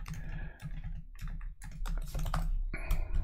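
Rapid, uneven keystrokes on a computer keyboard while entering code in AL for Business Central, close and fairly loud, with bursts of taps and short pauses and no talking.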